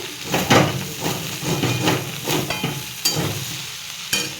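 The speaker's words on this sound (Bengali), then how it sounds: "এবার ভালো করে নাড়াচাড়া দিয়ে দেবো।" Chowmein spices fry in an aluminium wok, with loud sizzling and scraping stirring strokes arriving in irregular bursts close to the microphone; nobody talks.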